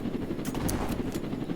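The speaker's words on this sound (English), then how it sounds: "So first up we have our classic helicopter." Helicopter in a video game showcasing cars and vehicles, a steady rotor drone with rhythmic chopping bursts, continuous and fairly loud throughout with no talking.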